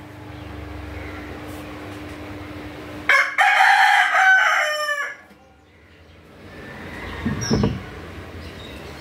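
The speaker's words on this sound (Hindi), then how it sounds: "वो उधर से ना एक मुर्गा वो कर रहा है, बांग दे रहा है" A rooster crows once, loud and close, a long drawn-out call against a quiet outdoor background with a soft thump afterward.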